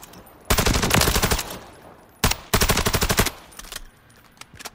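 An automatic weapon in Call of Duty Modern Warfare III fires two long rapid bursts of loud, close shots with a fast even rhythm, followed by a few scattered shorter shots, no voices over it.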